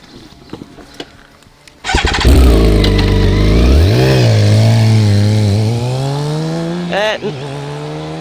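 A 2017 BMW K1600 GT six-cylinder touring motorcycle starts up and pulls away, its close engine rising in a smooth, climbing whine through the gears, after a few clicks and brief speech at the start.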